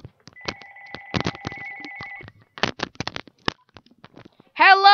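A telephone rings at a studio desk during a live call-in show, with repeated electronic trill bursts mixed among clicks, thumps and handling noises, then a voice breaks in at the end.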